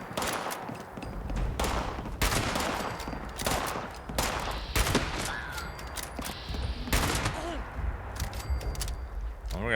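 A shotgun booms in Fallout 76 amid a busy fight, with repeated sharp blasts at irregular intervals mixed with other gunfire and faint voices.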